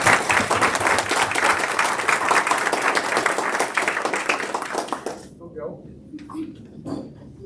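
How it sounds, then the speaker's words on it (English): A homeschooling panel discussion audience claps for the panel, a brisk, fairly close round of applause that stops abruptly after about five seconds, leaving a few scattered claps and voices. "Let's give our panel a round of applause."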